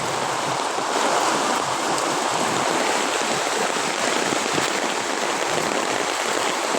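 Floodwater churns and sloshes steadily as someone wades through it on a flooded street. The dense, unbroken rushing water noise is close and constant, with no talk.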